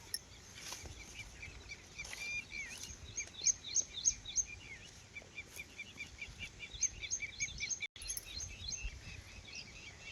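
Small birds chirp and twitter in repeated bright bursts at moderate distance during the first monsoon rain, with a soft rainy background beneath the calls and no voices.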